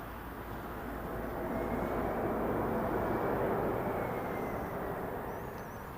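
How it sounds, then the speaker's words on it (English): A small business jet rolls at an airport, a steady broad roar of engine noise holding loud and even throughout, with no voices. "Smart looking little bizjet."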